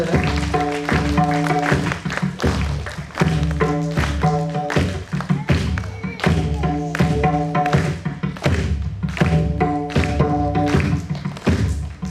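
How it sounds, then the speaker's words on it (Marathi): An audience claps in rhythmic unison at a school annual day function, the steady claps falling over continuous musical accompaniment. "टाळ्या वाजवायच्या सगळे जरा."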